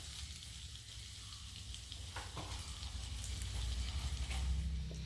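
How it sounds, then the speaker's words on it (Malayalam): Paneer frying in butter with masala in a pan, a steady close sizzle that grows louder toward the end with no talk. "പാനിലിട്ട് നമുക്ക് ആ പനീർ ഒന്ന് മസാല ചേർത്ത് ഫ്രൈ ചെയ്തെടുക്കാം"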